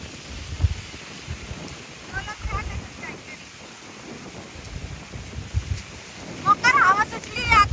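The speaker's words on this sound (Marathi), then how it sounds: "हवा सुटली." Wind blows outdoors after rice planting, rumbling and buffeting steadily across the microphone with gusty swells, while voices are faintly heard underneath.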